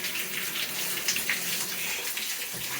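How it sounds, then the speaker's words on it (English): Tap water runs steadily into a pet bathtub during a dog's bath, a continuous close splashing gush with no talking. "I'm going to turn the water off,"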